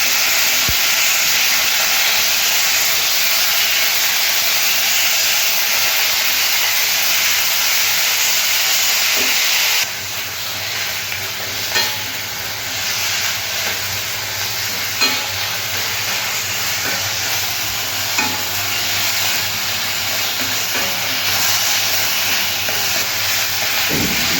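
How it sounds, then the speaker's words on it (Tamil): Green chillies and dried red chillies fry in a pan with a continuous hiss and sizzle that changes tone partway through, plus occasional faint stirring clicks, close and fairly steady, no talking. "2 மிளகாய், 4 வரமிளகாய் எல்லாத்தையும் ஒன்றா போட்டு நல்லா வதக்கணும்."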